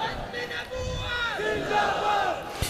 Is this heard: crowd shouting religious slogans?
yes